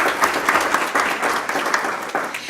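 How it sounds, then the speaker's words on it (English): A room of attendees at a school district board meeting claps steadily for award recipients, a dense, even patter of hands lasting a couple of seconds with no talking over it. "Let's give them a round of applause."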